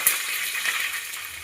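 Green chili slits and a couple of curry leaf sprigs frying in hot oil, giving a steady close crackling sizzle with a few sharper pops, no voices.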